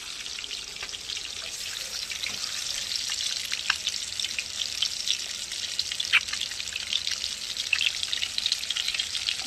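Egg frying in a pan of hot oil, a steady close crackle and sizzle with scattered sharp pops throughout, no voices.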